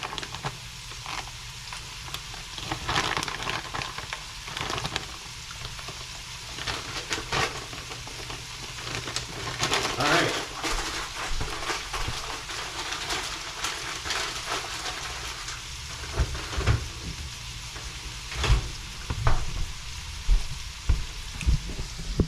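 Steady, loud sizzling and frying fills a pan as bacon bits are added to a home meal kit dish, with crackling pops, occasional stirring scrapes and bursts throughout, and no talking.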